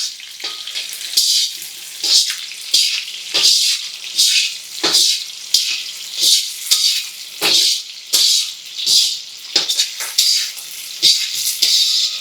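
Ingredients sauté in a hot pan for egg kulambu, a bright sizzle broken by repeated bursts of stirring and scraping that pulse steadily throughout.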